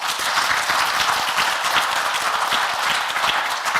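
Steady applause from a lecture audience, many hands clapping at once in a dense, continuous patter.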